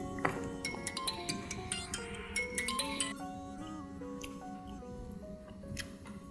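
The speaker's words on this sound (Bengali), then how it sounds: "ফোন বাজতেছে।" A phone rings with a faint, melodic ringtone of bright chiming notes repeating over a few seconds in a quiet indoor scene of a Bangla drama.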